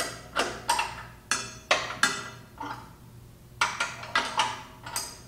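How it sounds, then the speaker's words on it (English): A lock nut on a Laguna LT14 bandsaw table is worked loose with a tool, a rapid series of close, sharp metallic clicks and taps in uneven bursts, with a short pause between. "Now I'll loosen up the lock nut and I'll sight off of my blade."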